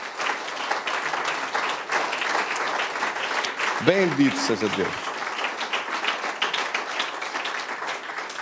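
A church congregation applauds steadily throughout, a dense sustained clapping that stays fairly even, with a voice briefly speaking over it partway through.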